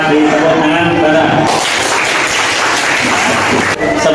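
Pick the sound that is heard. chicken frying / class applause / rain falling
class applause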